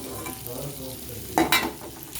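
Soya chunks seasoned with salt, turmeric and chili powder fry lightly in a pan, a soft continuous sizzle with a couple of brief louder scrapes of stirring near the middle.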